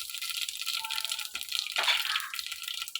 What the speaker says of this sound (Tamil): கடுகு சேர்த்துக்கலாம். கடுகு பொரியட்டும்.